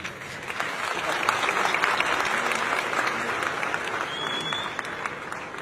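An audience bursts into sustained, fairly loud applause that holds steady for several seconds, with a faint murmur of voices under the clapping.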